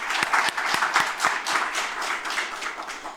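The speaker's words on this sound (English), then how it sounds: "if we could just give him in absentia a round of applause" A graduation ceremony audience gives a short round of applause, a brief burst of scattered hand claps with a few sharper individual claps standing out, fairly close and alone without talk.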